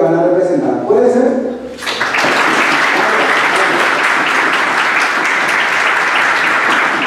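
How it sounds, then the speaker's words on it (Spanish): Someone speaks briefly before an audience at a university mock trial bursts into loud, sustained applause, dense clapping that fills the room steadily until the end. "quisiera que todos le den un gran aplauso a los compañeros que van a representar."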